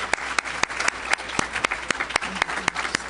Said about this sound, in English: let's give Hood Research a round of applause